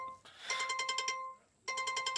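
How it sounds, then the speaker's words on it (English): A phone's storm warning alert sounds close and loud as a rapid pulsing electronic tone, running in two bursts separated by a short pause. "that's my phone giving me the death storm warning"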